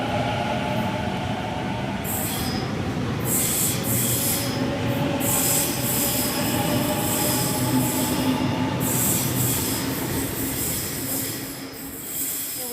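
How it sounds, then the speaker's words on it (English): A Sydney T9 Northern Line train, set A18, pulls away from Cheltenham station on a Hornsby service, its steady rumble close and loud with wheels squealing and rail noise throughout, easing slightly near the end. "Here we've got A18 departing for a Hornsby service."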